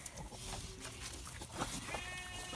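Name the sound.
pigs being fed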